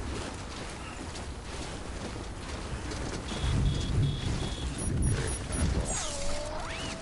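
Timefall rain and thunder in the Death Stranding video game: steady rain on surfaces with deep, rolling thunder that swells midway, followed by a few faint synthetic tones at the end.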